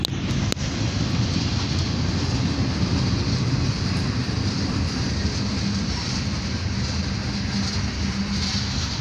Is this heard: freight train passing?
yes